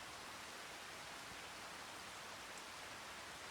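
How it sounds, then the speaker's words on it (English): Steady, even rain falling in the farming video game Farming Simulator 25, a continuous dense hiss at constant loudness with no talk over it. "Oh, here comes the rain."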